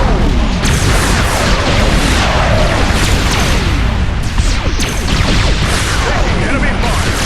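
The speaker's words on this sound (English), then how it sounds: "And just wave after wave of missiles." Missile barrage explosions in the space strategy video game Sword of the Stars, a dense, loud, continuous wash of booms and bursts with sweeping streaks throughout, and a voice talking over it.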